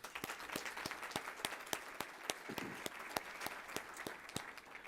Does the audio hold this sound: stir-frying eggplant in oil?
no